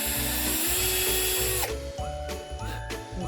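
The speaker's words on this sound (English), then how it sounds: "the next thing that I need to do is start drilling my pine cones that I went out and I found" A small drill bit bores through a pine cone for a Christmas garland, giving a close, steady whirring whine that dips in pitch as the bit bites, then rises again in short spurts.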